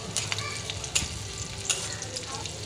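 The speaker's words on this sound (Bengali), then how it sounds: "পেঁয়াজটা আমি একটু আগে প্রথমেই ভেজে নিচ্ছি, কারণ পেঁয়াজটা ভাজতে একটু সময় লাগে।" Onions fry in a pan with a continuous close sizzle, broken by a few sharp crackles and spatters.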